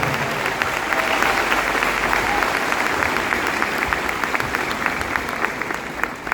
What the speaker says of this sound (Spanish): Fuerte ese aplauso por cada persona nueva que está en este lugar.